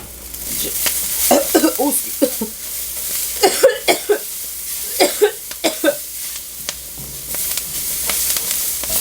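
Ginger and white pepper stir-frying in a pan for gochujang ramen, with crisp sizzling and repeated scraping stir strokes in bursts over a steady frying hiss, close and fairly loud.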